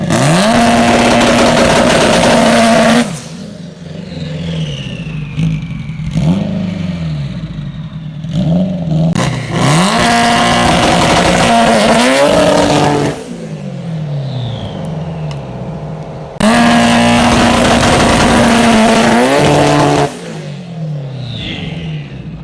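A race car engine, fitted with a Motec setup, runs and revs hard in loud bursts with rising and falling pitch, dropping to a rough idle between pulls.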